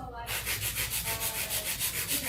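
A hand nail file scrapes over a fingernail in about ten quick, even back-and-forth strokes, close and soft, with a gritty rasp on each pass.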